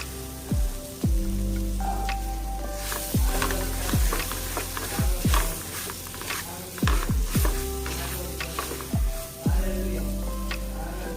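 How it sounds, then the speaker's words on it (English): Capsicum and onions fry on a high flame, a steady close sizzle broken by repeated sharp knocks and scrapes of stirring in the pan. "Now I'm going to fry the capsicum and the onions on high flame"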